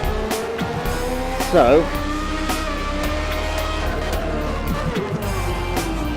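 An F1 race car from the 1994 season, driven in Assetto Corsa at the French round, gives a steady, continuous engine drone with a brief tire squeal, under light talk.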